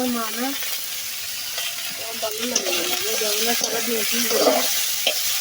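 Potatoes and tomatoes frying in oil in a pan, a steady sizzle with occasional stirring scrapes, while a voice speaks over it at close range.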